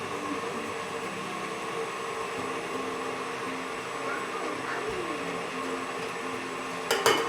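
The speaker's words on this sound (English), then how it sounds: "I'm just going to turn this on and just kind of mix this whole thing up." An electric stand mixer churns cinnamon roll dough with a steady motor whine and low rumbling hum, continuous and close, ending with a brief clatter.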